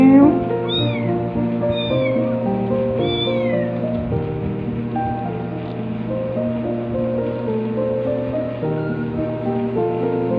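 Several kittens, including a ginger ticked tabby litter, meow in high, repeated cries near the start, then go on with softer intermittent mews over a steady musical background.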